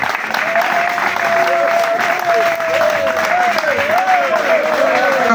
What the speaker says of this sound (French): Mafumbi, Monsieur Bingoudou Mafumbi, que je vous demande d'applaudir très très fort.